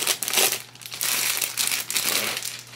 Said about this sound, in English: Comes wrapped up. Give me one sec. Pretty tissue paper.